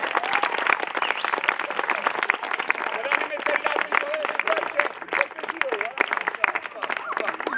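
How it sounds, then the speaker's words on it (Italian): Enthusiastic audience applause at a magician's street show during a medieval festival in Laterina, Italy, loud sustained clapping from a close crowd with cheering voices mixed in. "Un applauso fortissimo!"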